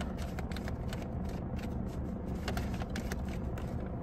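Tarot cards are shuffled and drawn in quick, crisp riffling bursts, faint and close, with no voices over them.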